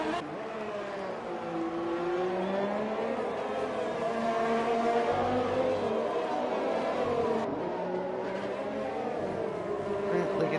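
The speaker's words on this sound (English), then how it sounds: "Azen, he's going to be going at it right now in the McLaren, coming across the end of Sector 2." A McLaren race car engine from a racing video game during an esports Hungarian Grand Prix, droning steadily at high revs with shifting pitch throughout, under continuous commentary.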